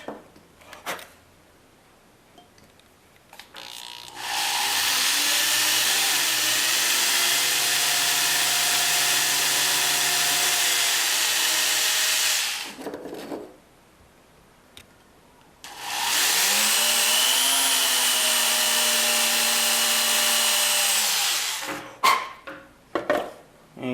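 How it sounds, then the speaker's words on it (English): Two long bursts of a whining corded electric drill boring into wood for a pepper grinder, each several seconds, with pitch shifting under load, separated by quieter pauses with faint handling noises. "I still use a drill with a cord."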